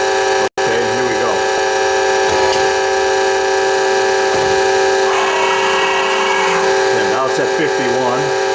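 A Spartan (Marvel) P-65A fully automatic production circular saw starting its cycle, a loud sustained mechanical whine with a steady tonal drone and shifting machine noise, a voice talking over it.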